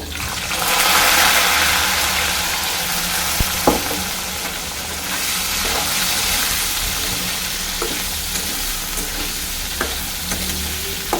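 Bitter gourd and potato fry in hot oil seasoned with nigella seeds, a steady loud sizzle and hiss filling the pan, with occasional clinks of stirring, no voices.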